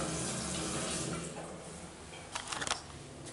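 Water streams steadily from a tap, a dense hissing flow that fades slightly, followed by a brief burst of close clatter and splashing near the end; no talk.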